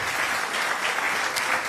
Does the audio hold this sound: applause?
yes